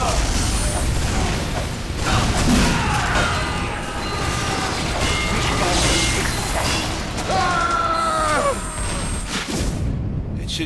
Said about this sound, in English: Sentry going up!